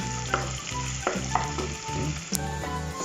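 Onion and garlic sauté in hot oil in a pan, a steady loud sizzle broken by a few sharp stirring scrapes and clinks, with no one talking.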